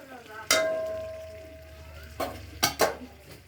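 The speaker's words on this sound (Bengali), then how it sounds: "এদিক লাল কুমড়ো ভাজি করছি, একদম ব্রাউন কালার করে ভাজি করব।" Red pumpkin pieces frying in a pan, browning in a little oil: a sharp metallic clink, a long faint ringing tone, then a few scraping stirs and knocks against the pan near the mic, with no talking.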